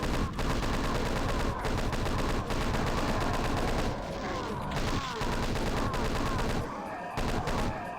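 A chain gunner in a video game fires continuous rapid bursts, loud and close, almost without pause across the whole stretch, with scattered impacts and explosions mixed in.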